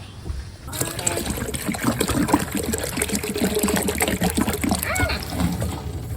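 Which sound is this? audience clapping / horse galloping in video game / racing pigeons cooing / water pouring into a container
water pouring into a container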